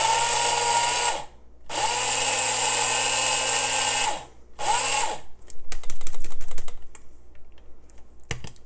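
An electric grinder pulses through toasted milk thistle seeds in three loud whirring bursts with short gaps, followed by scattered rattling and clicking as the seeds settle and the lid is handled.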